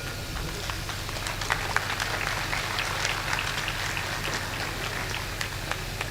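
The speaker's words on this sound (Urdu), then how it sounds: "زوردار تالیوں میں معظم بیگ صاحب کا شہباز کی سرزمین پہ استقبال کریں" Sustained applause from an audience at a mushaira poetry gathering in Shahabad, Rampur, welcoming the chief guest to the stage: dense, steady clapping throughout, with sharper individual claps standing out.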